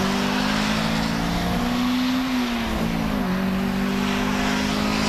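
Race cars at a 2K Cup round roar past trackside, a loud continuous engine drone with pitch shifts as they cross the line.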